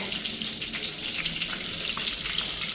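Boal fish pieces frying in hot oil, a dense, steady crackling sizzle heard up close without talk.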